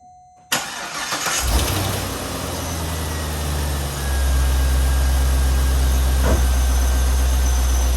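C5 Corvette V8 cranking briefly and firing up in a shop, settling into a steady, loud, deep idle with a slight rev around the midpoint.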